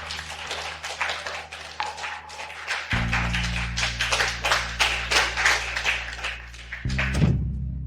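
An audience claps in welcome as a speaker comes on stage at a charity auction evening, a fairly dense patter of hands heard over a low sustained background hum.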